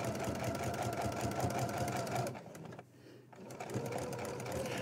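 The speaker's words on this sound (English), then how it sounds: "So I'm going to sew around the outside, keeping quite close to the edge." A sewing machine runs close and steady, stitching around the edge of a bauble cushion, pauses briefly for about a second, then resumes its even whirring.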